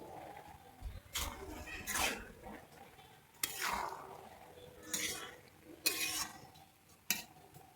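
Half-cooked vegetable pulao rice with ghee is stirred in a pot: a series of separate, close scraping sweeps of a spoon against metal with brief pauses between strokes and a faint sizzle underneath.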